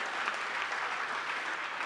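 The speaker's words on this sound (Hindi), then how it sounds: "तालियां इस बात पर भी उठनी चाहिए।" Audience applause at a Hindi stage comedy show, a steady dense wash of clapping that fills the short stretch without a break and with no voices over it.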